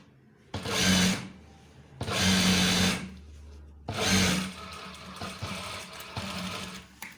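A sewing machine stitches the fly of a pair of trousers in three loud, close bursts of rapid mechanical whirring separated by brief pauses, with quieter machine handling in between and no talking.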